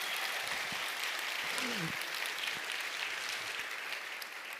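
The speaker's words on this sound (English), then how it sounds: "let's have an applaud for Margaret Hamilton" An audience applauds steadily at a public lecture on mathematics, a dense, continuous wash of clapping that holds at an even level for the whole stretch without letting up.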